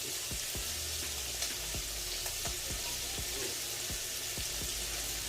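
Chopped peppers and onions fry for jambalaya in a pan, a steady close sizzle with a series of soft knocks and scrapes as they are stirred, no voices.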